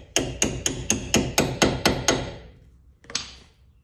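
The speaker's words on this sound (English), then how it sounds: "use a socket extension and then tap the socket extension, because you can be a lot more accurate with where you're applying the impact" Hammer taps on a socket extension seating brake parts on a Mitsubishi Evo X: nine sharp, evenly spaced metallic strikes in quick succession, a short pause, then one final tap, loud and close with no talk.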